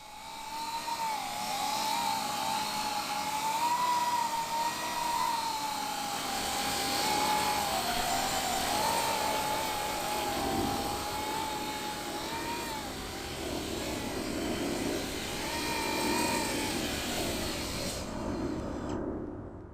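A Coanda-effect drone hovers on a cushion of air, giving a steady, loud, close whirring buzz with a wavering whine that holds for nearly twenty seconds before cutting off abruptly near the end.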